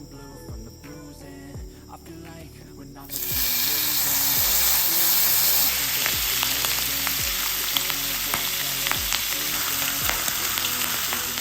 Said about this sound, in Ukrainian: А бікон кладемо на розігріту сковородку, тоді він не буде приліпати.